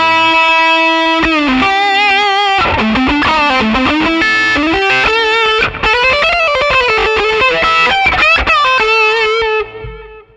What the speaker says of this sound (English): Let's use the Dire Wolf as a boost.